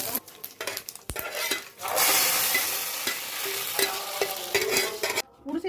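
Chana dal, curry leaves and mustard seeds are stirred in a hot pan, giving a loud close sizzle and crackle with scraping strokes and clinks of the spatula against the metal.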